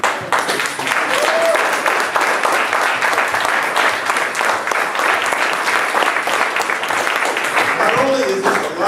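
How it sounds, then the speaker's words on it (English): An audience gives sustained, loud, dense applause that fills the whole stretch, at an event where an invited speaker is appearing in Boston. "we really need to give a round of applause for the people who are responsible for this"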